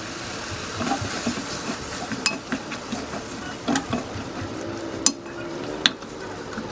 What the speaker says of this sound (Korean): 냄비에 김치를 볶아줄 거예요.